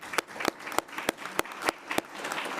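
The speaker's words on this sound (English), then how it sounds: "And a round of applause." A small group claps at a county commission meeting, a sparse, uneven round of individual hand claps with distinct sharp slaps scattered across a couple of seconds, close and fairly quiet.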